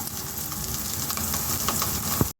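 Curry leaves and green chilli pieces sizzle in hot oil for a banana and tamarind curry, a steady close crackling fry with a few sharper pops and no voices.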